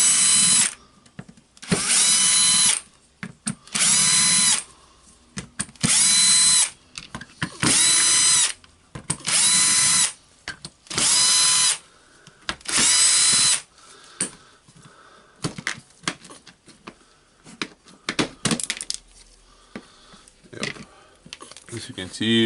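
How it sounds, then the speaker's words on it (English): Dewalt DCF886 brushless impact driver housing screws being unscrewed with a power tool: about seven loud, close bursts of whirring a second or so each, separated by short pauses with small clicks and handling, then quieter rattling. "Now we need to unscrew all the screws from the housing."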